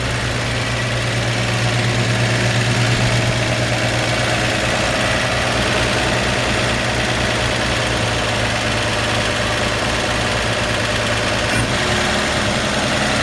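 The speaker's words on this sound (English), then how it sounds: "So it sounds like it's idling up a little high." A 1954 Chevy truck engine idles steadily, set slightly high, with a rhythmic low chug and rattling vibration, loud and close, the pace slightly fast and unchanging.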